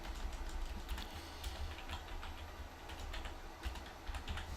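Quiet, rapid clicking of keys on a computer keyboard continues steadily, with faint keystroke taps heard close by.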